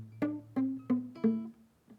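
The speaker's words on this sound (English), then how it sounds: "Many guitarists refer to this technique as palm muting, and it produces a sound like this." Palm-muted guitar, with the picking hand resting on the strings near the bridge: five short, dull plucked notes in an even rhythm, each dying away quickly, close and clear with no talking.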